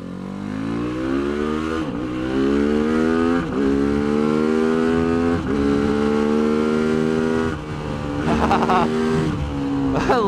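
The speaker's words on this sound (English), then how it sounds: "I probably gotta rev it higher than I am" A Tianda TDR300 mini motorcycle at Mission Raceway revs up repeatedly, its engine note climbing and dropping in several close, loud pulls, with brief gaps between throttle bursts.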